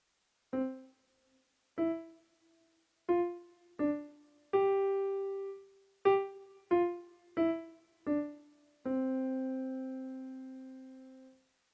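A piano plays a quiet phrase of about eleven separate notes, most short and detached, a few held longer and ringing out, set apart by clear silences.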